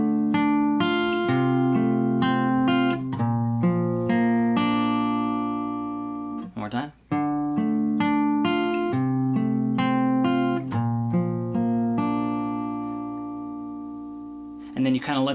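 Fingerpicked acoustic guitar plays a sequence of chords, each picked upward note by note with sustained ringing tones and short breaks between chords, close and clear, with no speech.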